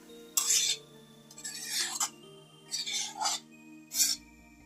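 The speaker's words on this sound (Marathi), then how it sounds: "परतून घेतो आणि गॅस बंद करतो" Veg momo filling being sautéed in a pan, with four distinct scraping stir strokes of a spatula against the pan, moderately loud and close, separated by short pauses and no talking.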